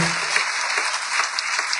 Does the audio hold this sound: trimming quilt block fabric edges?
no